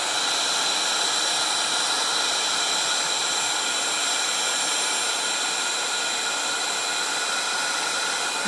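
A heat gun blasts steadily on a card during heat embossing, a loud, constant broadband whoosh like a hair dryer running without pause from start to finish.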